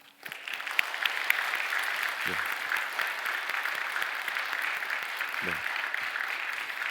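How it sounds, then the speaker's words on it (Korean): A church congregation claps steadily and warmly during a Sunday service, a sustained round of applause that carries on throughout. "우리 축복해 드리는 뜨거운 박수를 같이 좀 보내드리겠습니다"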